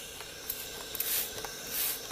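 A Panasonic NI-E650TR SteamDry iron with a titanium soleplate sprays water from its squirt button, giving faint, short hissing spritzes, two longer bursts among several quick ones.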